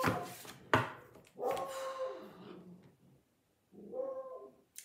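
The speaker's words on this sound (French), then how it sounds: "Mon chien est vierge. Il attendait depuis tout à l'heure le tirage. Et là, il vient de hurler de joie." A dog howls and yelps excitedly indoors in a few loud, close bursts, with a short silent gap before a final shorter cry.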